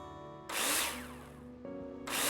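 In the Builder Simulator video game, a power drill drives screws into plasterboard. Two short whirring bursts are separated by a brief pause, loud and close.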